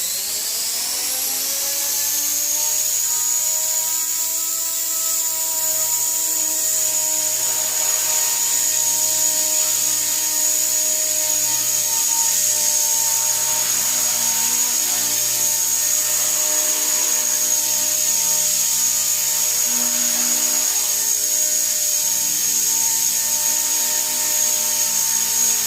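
Small RC helicopter hovering in stunt mode inside a home garage, its steady high rotor and motor whine running continuously and loud for the whole stretch with slight pitch shifts as it holds position.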